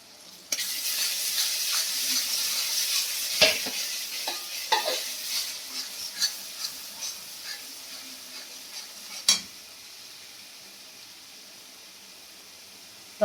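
Garlic paste fries in a pan with cumin and dried chili powder, a sharp hiss with spatula stirs that fades after about nine seconds into near quiet.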